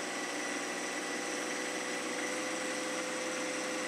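A John Deere 1025R compact tractor with HydrosPlus runs at about 2,500 RPM, its diesel engine giving a steady, loud, unbroken drone throughout.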